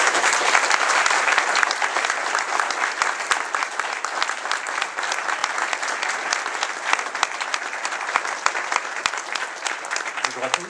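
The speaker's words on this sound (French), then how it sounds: "Juan Branco, sous vos applaudissements" Audience applause at a public appearance by Juan Branco in Saint-Paul-Trois-Châteaux, a dense, steady clapping that fills the whole stretch at close range, with a voice briefly audible near the end.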